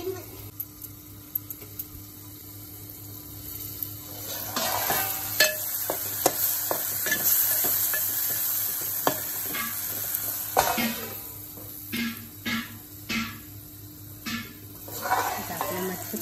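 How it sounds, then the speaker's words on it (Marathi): Fish pieces are stirred into cooking masala in a pan, sizzling steadily while a utensil scrapes and clinks against the pan in close, intermittent bursts. "आणि आता आपण यात मच्छी टाकून घेऊया।"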